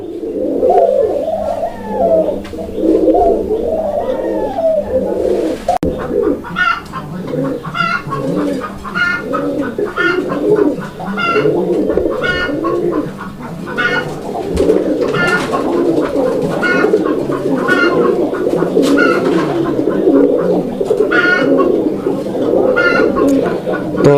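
A pair of pigeons coo steadily inside a cage, their repeated throaty calls overlapping in a continuous rhythm up close, with a brief interruption early on before the cooing resumes just as busily.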